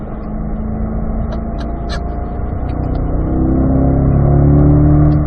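Close Corvette engine droning inside the cabin, its pitch climbing as the revs rise on a downshift, with a few faint clicks on top.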